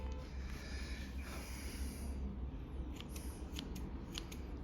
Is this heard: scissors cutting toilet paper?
yes